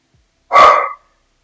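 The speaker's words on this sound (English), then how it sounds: "Zichun Pup has a very loud bark" A single loud, close bark from a dog on a windy day, short and sharp with no other sounds around it.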